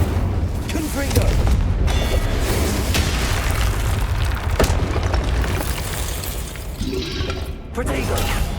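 Confringo spell explosions from the Hogwarts Legacy video game: dense booming blasts and crackling bursts overlapping in a busy, continuous battle din, with a few sharper cracks standing out.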